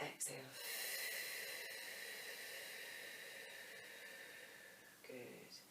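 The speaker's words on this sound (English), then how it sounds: "exhale through your mouth" A slow, deep exhale through the mouth during a Pilates breathing exercise: one steady, airy hiss that holds for about four seconds between softer breath sounds at the start and end.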